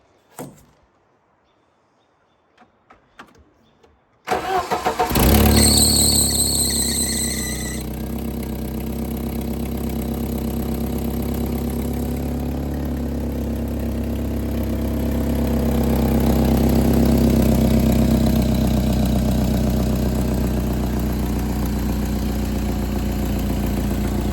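An old Jeep engine, freshly tuned up with a new air filter, cranks briefly and catches, then settles into a loud, steady idle that swells slightly in the middle, heard close with no talk.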